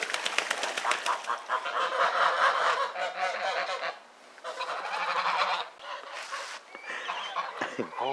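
Geese honk repeatedly in a barnyard flock alongside chickens, guinea hens and a duck, the calls loud and close, overlapping in dense bursts with brief lulls and some wing flapping.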